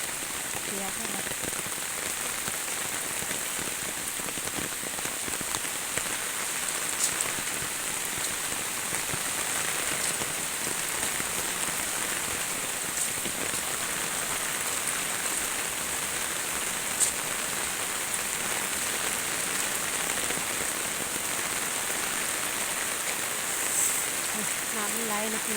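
Heavy rain from Storm Bualoi in Laos pours down steadily, a dense continuous hiss of drops with no break throughout.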